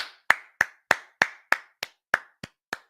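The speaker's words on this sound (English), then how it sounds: "Clap it up for Steph Diggs, Kush." One person clapping alone for a football player, about ten sharp, evenly spaced claps, close and distinct, with brief silence between each.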